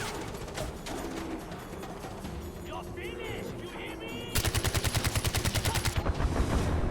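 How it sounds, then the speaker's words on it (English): Gunfire in the video game Far Cry 4: scattered shots give way to a loud, rapid automatic burst of evenly spaced cracks in the second half, close and dense over game background noise. "who the hell is shooting me?"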